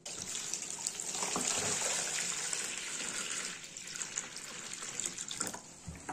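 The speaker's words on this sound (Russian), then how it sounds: "сейчас доливаю сюда воды" Room-temperature well water pours steadily into a container holding half a brick of coconut coir substrate, a continuous close splashing rush that eases and turns more broken toward the end, with no voices.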